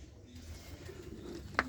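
Pigeons in a pigeon-keeper's loft give soft low coos under a quiet background hum, with one sharper flutter or call near the end of the short stretch.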